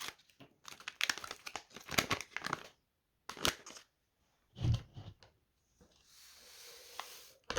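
Crinkling and tearing of a cola drink powder sachet from a British 24-hour operational ration pack, opened at its tear notch, with several sharp crackly bursts, brief pauses and softer rustling near the end.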